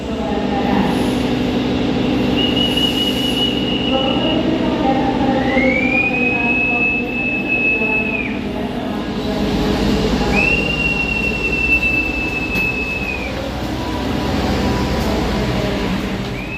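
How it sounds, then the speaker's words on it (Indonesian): A local economy train on the Surabaya–Cepu line rumbles along steadily at speed, loud and continuous, while a high, drawn-out squeal rises and holds twice over the running noise. "Pada pukul 9:21 kereta api ekonomi lokal Cepu diberangkatkan dari stasiun Surabaya Pasar Turi"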